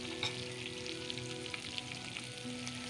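Tomatoes with black pepper, cumin and garam masala frying in oil in a karahi, a faint, steady sizzle with small crackles and occasional stirring, no voices.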